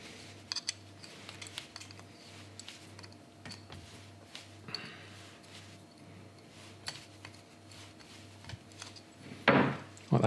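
A small screwdriver works a screw loose from a musket lock, giving light scattered clicks, scrapes and ticks of metal on metal at close range, spread unevenly across the stretch and ending in a louder rattling clatter.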